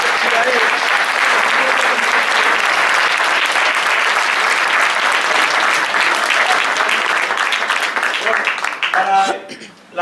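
Dense, sustained applause from an audience at a community centre for older people before a band concert, continuous and loud for about nine seconds, then thinning out at the end.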